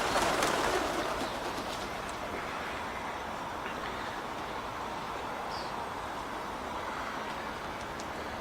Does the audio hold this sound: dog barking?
no